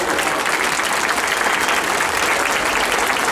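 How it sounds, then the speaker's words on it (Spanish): Steady, dense applause from an audience greeting a special guest at a municipal mayor's speech event in Patzún, Guatemala, loud and continuous throughout with no break. "Más fuerte el aplauso para nuestro invitado especial"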